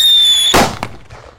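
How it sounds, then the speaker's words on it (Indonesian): A Whistling Thunder Jumbo firecracker set off outdoors: a high steady whistle for half a second, then a loud sharp bang and a brief second crack, fading quickly. "Lanjut di sini ada mercon Whistling Thunder Jumbo guys. Kita nyalakan ya. Sudah menyala guys."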